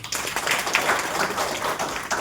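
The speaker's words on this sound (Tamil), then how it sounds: "இதுக்கெல்லாம் ஒரு பெரிய கைத்தட்டல்." A large audience claps loudly and continuously at a community health awareness event, a dense, steady wash of hand claps with no pauses.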